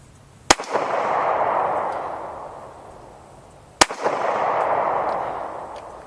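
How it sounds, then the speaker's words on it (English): Two sharp, loud shots from a military surplus handgun about three seconds apart, each cracking outdoors and trailing off in a long rolling echo. "It is a nice firing handgun though, but man, that magazine kills me every single time that I shoot this thing."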